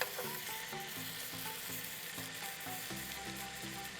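Ribeye steaks searing in a dry pan with no oil, a steady close sizzle and crackle running continuously for the whole stretch with no talk.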